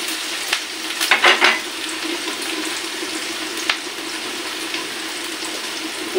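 Chopped green chilies hit a pan of frying onions, giving a steady, close sizzle with a few sharp crackles and spatters early on, continuing evenly with no talk.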